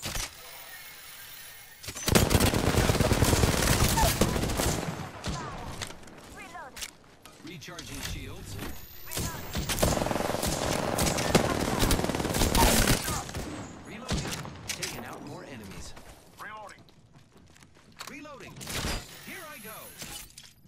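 Gunfire exchanged with an enemy in a video game match of Apex Legends, with loud bursts of rapid shots and impacts across most of the stretch, broken by quieter gaps and mixed with talking voices.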